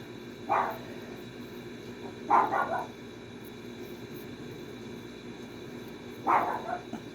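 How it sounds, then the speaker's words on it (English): Dogs bark in the distance, three short bursts of one or two barks spaced a couple of seconds apart against a quiet indoor background. "And the dogs are barking."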